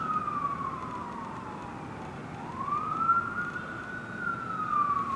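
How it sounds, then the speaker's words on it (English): Emergency vehicle sirens pass outside, a wailing tone sweeping down and back up over steady street rumble, fairly loud and continuous with no talk. "Oh my god, these motherfucking sirens."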